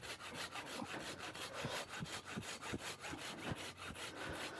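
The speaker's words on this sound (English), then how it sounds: "So at the moment I'm cutting some small wood components" A hand saw made for green wood cuts through small wood components in quick, steady back-and-forth strokes, each stroke a close, even rasp in a regular rhythm with no voices.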